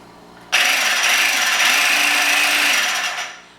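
A food processor grinds herbs with olive oil and salt into a coarse paste, switching on abruptly with a loud, steady motor whir and harsh chopping buzz for about three seconds before winding down, heard up close with no voices.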